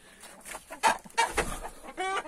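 Chickens in a backyard coop cluck and squawk in short bursts, several calls close together and fairly near, with no one speaking.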